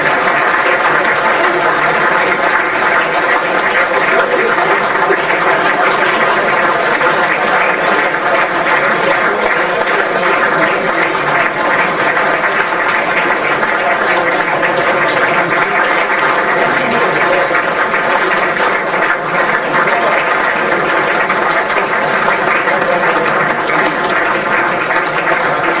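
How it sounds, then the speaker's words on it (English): A room full of people at an end-of-season football club awards evening gives loud, sustained applause, steady and unbroken for the whole stretch. "Big round of applause for all of our staff and management."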